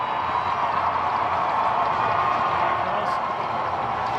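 Ice hockey arena crowd cheering and applauding as the star goalie rouses the fans, a sustained broad roar of claps and shouts under an announcer's voice.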